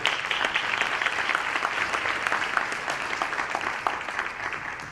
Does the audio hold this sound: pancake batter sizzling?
no